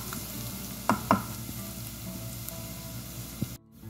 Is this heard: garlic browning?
yes